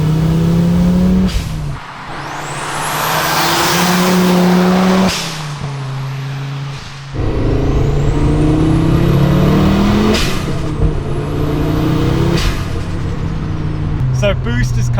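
A 500 hp Audi Sport Quattro accelerates hard through several gears, the turbo engine rising in loud repeated revving sweeps with sharp shifts and boost whooshes, close and aggressive, while a person talks over it.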